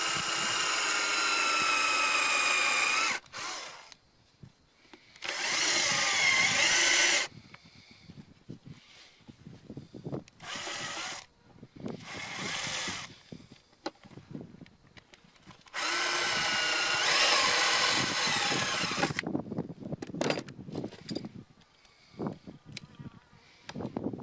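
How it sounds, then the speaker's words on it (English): A power drill bores into a soft rubber signal light mount on a KLR-650 motorcycle, running in several loud whining bursts of a few seconds each, separated by quieter clicks and handling noises. "what we're doing is just drilling into the soft rubber"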